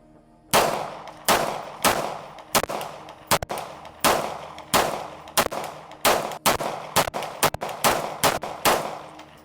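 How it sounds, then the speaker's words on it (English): A Kimber 2K11 pistol fires about a dozen sharp, loud shots in quick succession, some paired as doubles, each with a short ringing decay, nearby and with no talk. "So I'm actually gonna shoot a couple of rounds just to kind of show you guys what the recoil impulse looks like."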